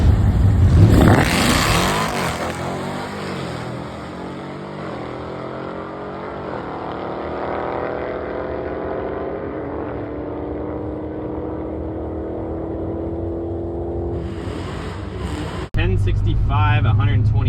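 A single-cab Ram 1500 pickup with a Hellcat engine swap and a full E85 conversion accelerates hard. A loud, sustained engine roar climbs through the gears and stays close, and a sharp burst of noise comes near the end.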